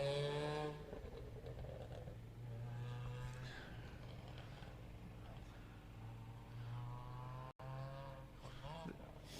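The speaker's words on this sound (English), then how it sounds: "It's the Fiesta, car 124." A Ford Fiesta rally car, number 124, weighing 1,200 kg, runs its engine at the Mull Rally, revving steadily with shifting pitch over the full stretch while a voice talks over it.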